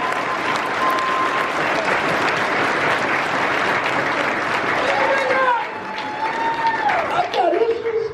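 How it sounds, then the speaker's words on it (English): Sustained audience applause fills a large seminar hall in Los Angeles, steady and loud for several seconds, then thinning slightly as a few voices and whoops rise over the clapping near the end. "Give yourself a round of applause."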